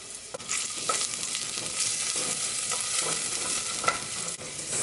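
Garlic and ginger saute in grapeseed oil on a stovetop pan, a continuous close sizzle broken by several sharp stirring scrapes and clinks of a utensil.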